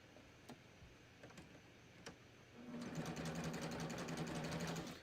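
Sewing machine running a stitching pass along a t-shirt sleeve hem, a few isolated ticks and clicks first, then a steady, close, continuous whirring hum for the last couple of seconds.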